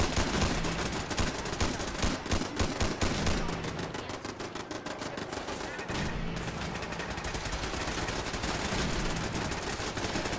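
Gunfire in Fallout 4, with rapid automatic bursts and repeated shots crackling steadily, moderately loud and dense, continuing through the whole stretch with a short lull midway.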